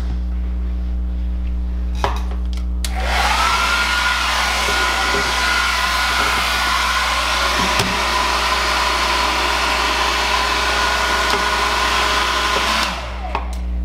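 A hair dryer warming the limbs of a vintage Pleasant Company American Girl doll switches on and then blows with a loud, steady whirring roar for about ten seconds before cutting off, with a low electrical hum underneath throughout.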